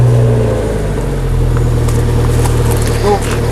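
A small Ferrari's engine idles steadily up close, a continuous low rumble with a faint whir, while people talk over it throughout.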